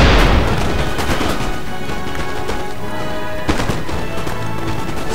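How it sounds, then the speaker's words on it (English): Infantry lines in Napoleon Total War fire muskets in a Prussia versus Austria battle, ragged volleys of sharp cracks and booms crowding together over a constant battlefield din, with a heavier burst near the start and another midway. "my guys are shooting into the dirt at the moment"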